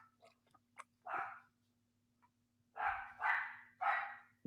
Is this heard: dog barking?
yes